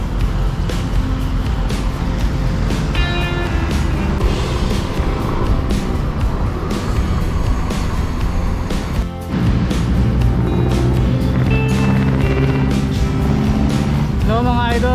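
Heavy road traffic on a drive from Caloocan toward Bulacan and Pampanga rumbles steadily, engines droning and vehicles passing close by, with a constant loud roadway hum throughout.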